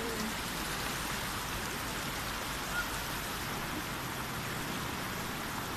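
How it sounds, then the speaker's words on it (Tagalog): A strong river current rushes over a rocky bed on the Bantac River in Magpet, North Cotabato, making a steady, dense broadband roar that stays close and unbroken throughout with no voices. "Grabe yung agos nito."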